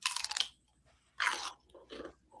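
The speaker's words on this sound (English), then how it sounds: "Really, a very different crunch, but also very nice." Crunchy food is bitten and chewed close to the mic in three bursts: a loud crackling bite, a second sharp crunch after a pause, then softer chewing crunches, with no talking.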